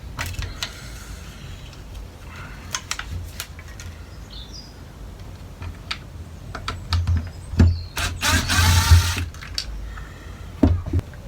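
Electrical connectors being unplugged from a Webasto Air Top heater during repair, a series of close plastic clicks, creaks and scraping handling noises, with a louder rustling burst midway and no talking.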